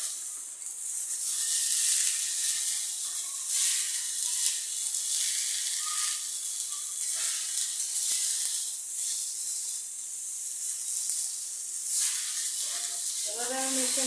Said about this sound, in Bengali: এখন আমি শাকটার সঙ্গে মিশিয়ে নিব।